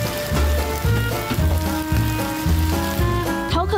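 Pan-fried buns, colored green like guavas, sizzle on a griddle in a Tainan food stall, a close, loud crackling hiss with sharp rhythmic clanks repeating about every half second.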